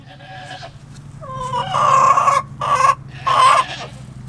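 Chickens on a farm cluck and squawk nearby in a few loud, bright bursts over a low steady hum, with the calls growing louder and closer together toward the end.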